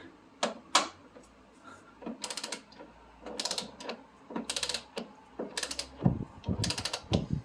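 A ratchet tightens front suspension bolts on a 1991 Toyota MR2, with quick bursts of close, crisp clicking in short runs separated by brief pauses and occasional metallic clanks.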